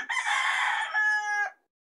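A single rooster crows loudly and close by, one long, strained call that rises and then breaks off into silence.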